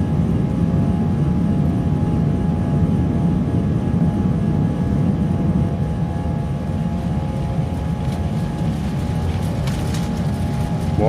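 Airbus A319 jet engines roar steadily and loudly throughout a takeoff roll, a constant broadband rumble with low hum heard from inside the aircraft.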